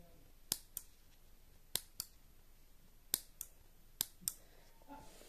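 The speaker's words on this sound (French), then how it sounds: "Oh, ça m'énerve ça parce que mon ciseau il coupe pas." Scissors snip through material for a small toy sofa, about eight sharp, close clicks arriving in pairs over a quiet background, with no talking.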